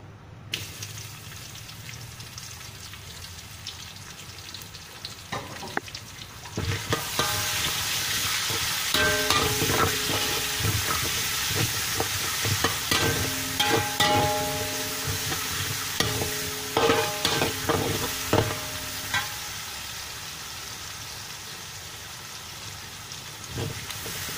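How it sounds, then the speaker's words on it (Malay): Onions dropped into hot oil in a pan for black pomfret fish curry with okra and tomato, a faint start then a sudden steady sizzle with repeated scraping stirs, close and without talk. "Masuk bawang."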